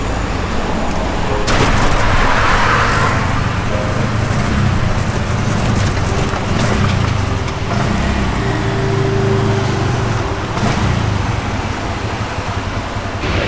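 A car rides along a road with steady low engine rumble and tyre and road noise throughout, fairly loud and close, with no talk over it.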